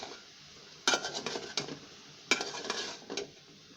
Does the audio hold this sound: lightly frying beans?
yes